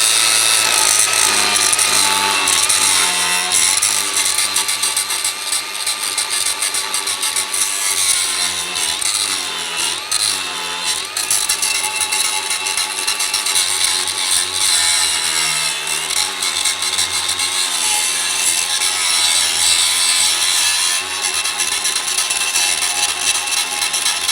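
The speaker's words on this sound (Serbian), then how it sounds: "ja ću sada uzeti i prebrusiti nju na belo" Angle grinder working the inner side of a 20 mm steel plate down to bare metal before welding, a loud, continuous abrasive whine with a steady rough hum that holds without pause throughout.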